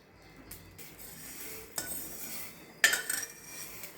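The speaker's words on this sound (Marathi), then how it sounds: "आता तो मी ताकामध्ये ओतून घेणार आहे" Roasted sago being poured from a pan into buttermilk, with a few metallic scrapes and clinks of the pan and spoon and a brief rattling pour near the end, close and without speech.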